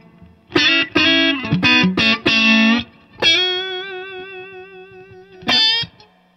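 An electric guitar plays through an Andrews Amp Lab Steel String Singer amplifier, with bright plucked notes and chords, then a long sustained note with vibrato, set against a quiet background.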